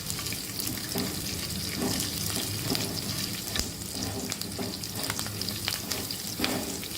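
Curry leaves fry in hot oil in a pan for temple-style daddojanam, giving a dense, continuous crackling sizzle close by with small pops throughout.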